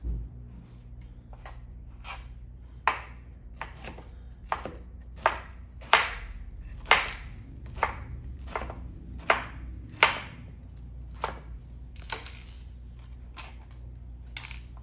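A knife chops broccoli into florets on a cutting board, about a dozen crisp, evenly spaced thuds over a low steady background hum, close and with no talking.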